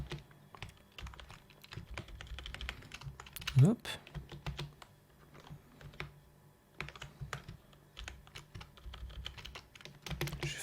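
Close, quiet typing on a computer keyboard, irregular clusters of light key clicks with short pauses, a brief spoken word partway through.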